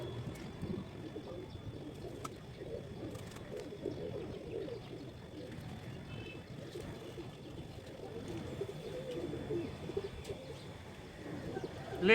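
Pigeons coo in low, rolling murmurs over a steady outdoor background, with a few faint chirps scattered throughout.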